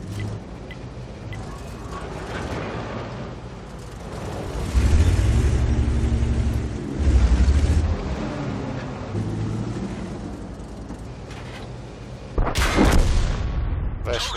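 Tank cannons fire in the World of Tanks video game. A few heavy booms land a couple of seconds apart, the last one sharp and loud, over a low rumbling engine drone.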